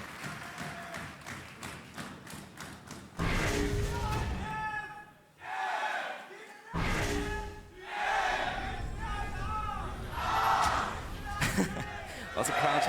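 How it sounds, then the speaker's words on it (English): A studio crowd at a 2016 EU LCS Spring esports match between Fnatic and ROCCAT chants loudly and rhythmically, with thumping and clapping, under and between a caster's commentary. "Lots of crowd chants coming out here in the studio,"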